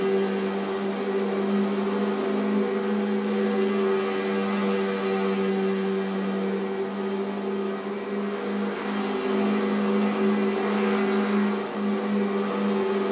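Several racing car engines whine and drone together during a video game race, a steady layered buzz of revving motors with slight rises and dips and no talking.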